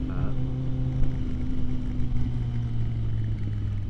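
A Triumph Speed Twin motorcycle cruising in second gear on light throttle, its steady low engine drone continuous and close, with a faint voice briefly under it.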